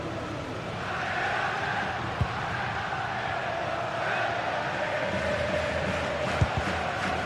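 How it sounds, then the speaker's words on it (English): A large football stadium crowd roars and chants steadily in the late minutes of a match, a dense continuous wall of cheering that swells slightly, with no clear talk over it. "just listen to this crowd"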